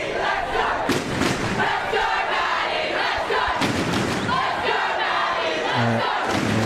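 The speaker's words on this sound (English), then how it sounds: "this crowd is urging on Ebden" Loud crowd at the Australian Open tennis tournament roaring and shouting encouragement for a player, a sustained dense cheer with claps and shouts rising and falling, continuous throughout.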